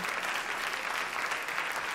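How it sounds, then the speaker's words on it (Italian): A comedy club audience at a stand-up set breaks into brisk, dense applause, a steady uninterrupted roar of many hands clapping at moderate loudness, with no voices on top. "Applauso ai vecchi."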